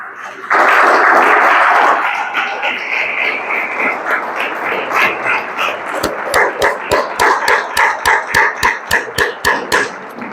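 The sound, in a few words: congregation applause in church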